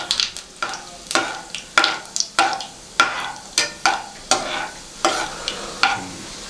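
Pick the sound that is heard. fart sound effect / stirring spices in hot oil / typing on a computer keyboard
stirring spices in hot oil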